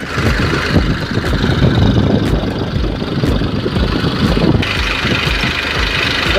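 A tractor engine runs steadily and loudly throughout, a low rumbling idle with a slight knocking texture and no pauses.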